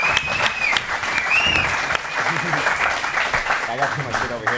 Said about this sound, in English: Give another round of applause for these guys.